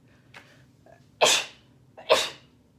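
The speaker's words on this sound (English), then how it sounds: "I'm about to sneeze, hold on." Two sharp sneezes close by, each with a quick intake of breath before the loud burst, a short pause between them.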